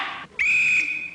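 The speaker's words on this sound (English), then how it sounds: "I am not a Gestapo officer until I blow my whistle." A police-style whistle is blown once in a wartime comedy scene, giving a sustained shrill blast after a short noisy burst.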